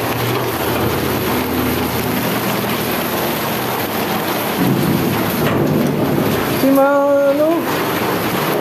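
Steady heavy rain roars close by while low thunder rumbles underneath; a brief tonal sound rises near the end.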